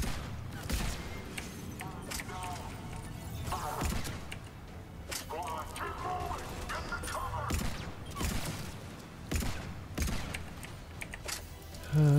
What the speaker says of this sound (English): shots are flying here